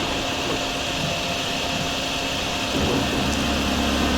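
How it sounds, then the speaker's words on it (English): Vacuum hoovering up floodwater in the Drain Sim video game, heard as a steady, loud broadband whooshing drone that holds throughout, with a slight rise in low rumble near the end. "But I'm going to start hoovering this up as well."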